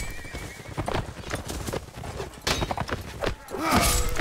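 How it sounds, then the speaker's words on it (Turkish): A horse in a Mount & Blade battle, hooves thudding in quick, uneven beats before a loud, shrill neigh near the end, with clashing combat noise around it. "Aha atı tökezliyor da."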